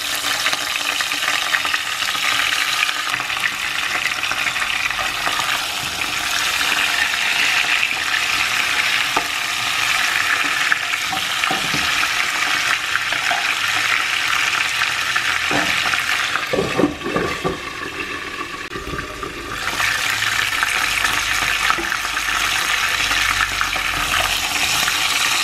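Chicken fries in melted ghee, a continuous loud sizzle with bursts of crackling and a few stirring scrapes partway through, with no talking.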